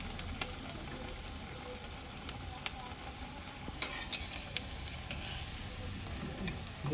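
Fritters (bora) sizzle and crackle steadily in hot oil, with occasional sharp pops and stirring clicks over a constant frying hiss, close by and fairly quiet.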